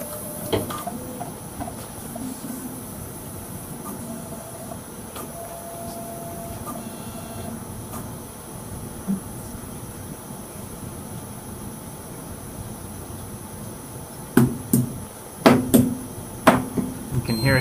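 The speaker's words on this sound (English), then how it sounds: "You can hear it testing all of its little valves" Quest MPS machine testing its valves during startup, a steady mechanical hum with faint clicks, then a cluster of sharp valve clacks near the end, heard up close in a quiet room.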